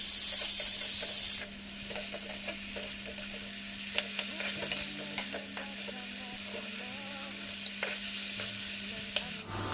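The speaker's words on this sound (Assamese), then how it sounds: "এনেদৰে ভাজি থাকিম" Dried fish sizzles steadily in a hot pan, starting with a loud hissing burst that settles into a continuous frying crackle with occasional stirring clicks and a low background hum.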